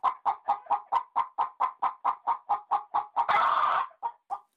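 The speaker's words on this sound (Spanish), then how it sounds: "Co-co-co-co-co, cacarea, cosiendo un traje." A hen clucks in a rapid, steady rhythm of short repeated notes, broken briefly by a louder, harsher squawk before the clucking resumes.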